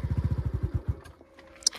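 A new motorcycle pulling uphill with a rapid, throbbing engine pulse that falters and dies away after about a second, leaving faint clatter and a sharp click at the end.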